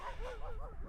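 Four dogs play together outdoors on the South Downs Way, giving a brief burst of soft, high whining yips at moderate distance.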